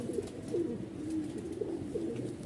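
A red Chinna male pigeon coos in a steady series of soft, throaty calls, close by and alone.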